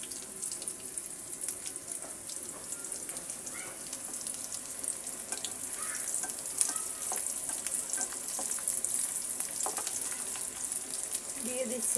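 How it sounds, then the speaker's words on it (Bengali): Chopped onion and garlic fry in a pan, giving a continuous bright, crackling sizzle that stays steady and fairly quiet up close, with occasional faint stirring scrapes. "পেঁয়াজ এবং রসুনটাকে আমি এখন সুন্দর করে ভেজে নেব।"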